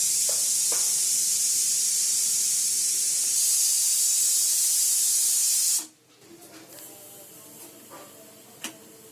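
Pressure cooker on a gas stove releases a loud, steady hiss of steam that cuts off abruptly after about six seconds, leaving quiet room noise and faint clatter behind.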